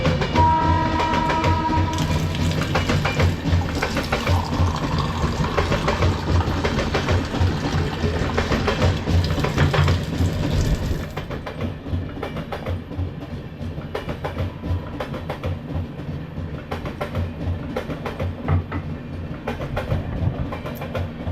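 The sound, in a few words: long-distance train passing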